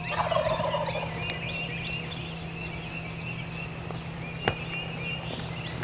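A wild turkey gobbles close by during a spring hunt, loud near the start, over steady outdoor background hum with a sharp click later on.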